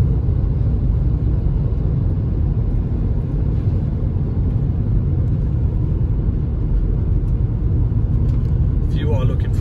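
A 2014 Fiat Fiorino van drives along, its engine rumbling steadily through the gears with dense road and cabin noise throughout.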